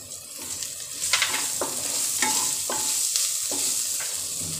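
Onions fried until reddish are stirred with turmeric in a pan for pumpkin bhaji, a constant sizzle broken by a series of distinct scraping spoon strokes, close and moderately loud.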